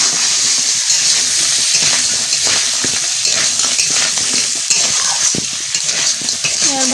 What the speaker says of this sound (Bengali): বন্ধুরা, এবার কাঁকড়াটা ভালো করে নেড়ে চেড়ে ভেজে নেব